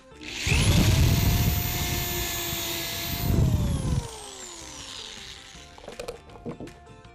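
A power drill spins up and bores a second pilot hole in wood for a wine rack, a loud sustained whine with a strained middle stretch, then winding down and fading before a few light knocks.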